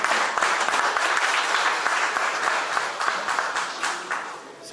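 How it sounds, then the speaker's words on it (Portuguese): An audience at a sports awards press conference gives a warm round of applause for the vice president of the Parliament of Aruba, dense steady clapping that tapers slightly toward the end. "Va a recibir un fuerte aplauso, señor Raymond Camperveen"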